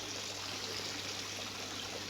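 Water trickles steadily from a garden waterfall, a soft, continuous splashing wash with no breaks, faint and fairly distant, with no voices over it.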